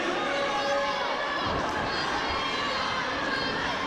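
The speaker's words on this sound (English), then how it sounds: "The crowd firmly behind the Rock and Roll Express." Wrestling crowd at an AMW Super Saturday Night Fever 2018 event cheering and chanting in support of a tag team, a dense, steady roar of voices filling the arena throughout.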